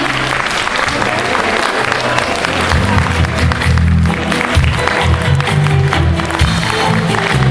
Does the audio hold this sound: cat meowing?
no